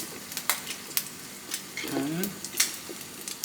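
Food frying in oil in a pot on the stove, with a steady sizzle, scattered stirring clatters and a brief voice speaking over the cooking.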